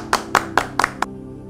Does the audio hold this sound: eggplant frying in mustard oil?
no